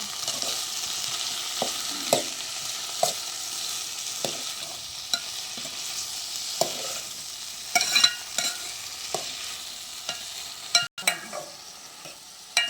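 A spoon stirs brinjal (eggplant) curry frying in a pan, with a steady hiss of sizzling oil under repeated scraping strokes that grow busier and more clattery toward the end.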